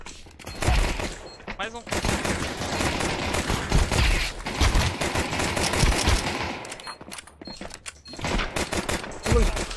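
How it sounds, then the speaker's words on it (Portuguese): Rapid bursts of automatic gunfire in a competitive shooter game, with rattling volleys that run almost without a break through excited talk from the players and pause only briefly. "ele errou todos os tiros em você"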